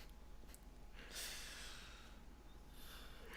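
A man yawns near the microphone, a long breathy exhale swelling for about a second and trailing off over a quiet room hum.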